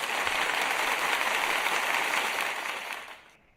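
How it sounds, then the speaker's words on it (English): A short burst of applause, dense steady clapping from a small group that holds for a few seconds, then tapers off and stops. "I'm going to give you a bit of applause."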